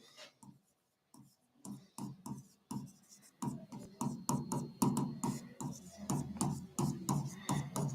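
Chalk or marker strokes on a board during a lecture, a rapid series of short scratchy taps and scrapes that keep up steadily, fairly close, with no talking over them.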